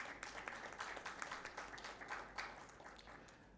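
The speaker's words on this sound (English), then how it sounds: "Please give him a big round of applause." Audience applause at an ophthalmology conference award session, a steady patter of many hands clapping at a moderate distance, fairly even throughout with no voices over it.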